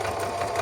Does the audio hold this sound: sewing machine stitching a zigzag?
yes